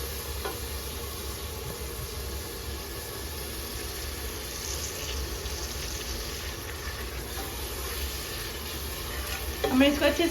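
Half a kilo of meat frying with freshly ground ginger garlic paste, a steady loud sizzle with stirring scrapes throughout and a brief clatter at the end.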